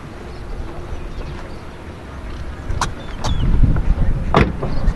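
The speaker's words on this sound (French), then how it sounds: "Regardez, j'ai fermé la porte." Quiet mechanical rustling, then a few sharp clicks and a solid thud as a Porsche 911 Carrera door shuts nearby, followed by a low rumble.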